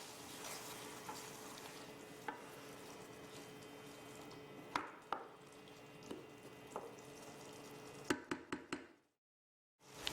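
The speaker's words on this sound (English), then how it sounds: "Stir to combine." Spaghetti squash mixture stirred in a pan, with scattered soft scrapes and taps of the utensil over a quiet background, ending in a quick run of sharper knocks.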